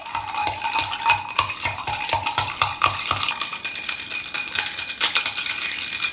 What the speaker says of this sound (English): we are gonna stir it really well, and I'm gonna mash it a little just because I wanna replicate the whole shaker aspect